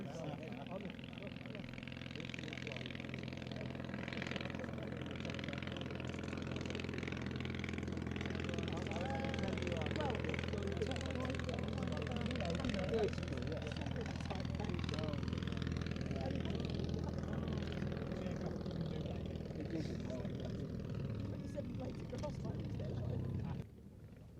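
A Stearman biplane flying at an air show, its engine a steady, broad droning roar that swells slightly and holds for the whole stretch, with people talking over it.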